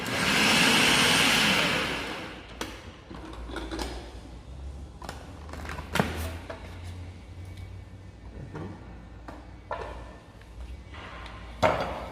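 A food processor grinds ingredients with butter into a moist farofa for a Caribbean dish, a loud whirring burst at the start that cuts off, followed by scattered clicks and clatters of the machine and utensils in a kitchen.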